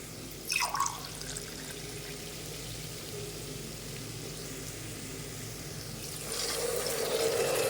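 Coconut milk pours into a pressure cooker holding rice for paneer corn pulao, a steady liquid splash close by with a brief louder spill near the start and a heavier gush near the end.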